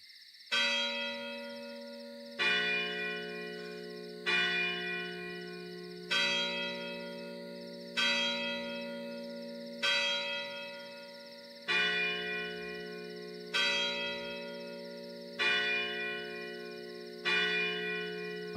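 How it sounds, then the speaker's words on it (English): Church bells toll in a CodinGame escape-room puzzle game, ringing ten evenly spaced strikes about two seconds apart, each a bright clang with a long shimmering decay, clear and alone with no talk. "So we've got a series of bells."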